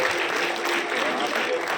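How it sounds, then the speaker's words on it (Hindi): An audience in an auditorium claps at a political event, a dense, steady patter of applause filling the short moment while someone talks over it. "एक बार जोरदार ताली बजाएंगे।"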